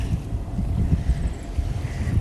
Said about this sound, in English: You can probably hear the boat now, that intrusive sound.